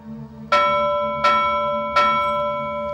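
A bell struck three times at an even, unhurried pace, each clear ring decaying before the next, loud and close over a steady low hum with no talk.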